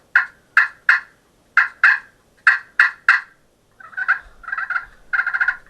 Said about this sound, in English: And then you can also cluck with it.